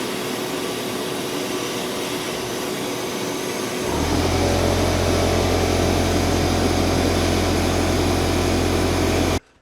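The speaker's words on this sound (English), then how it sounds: "Going to put this back in the sandblaster, clean it up" Sandblaster running while cleaning a brazed carbide-tipped turning tool: a quiet hiss gives way to a loud, steady roaring blast of air and grit with a low hum, continuing evenly until it cuts off abruptly near the end.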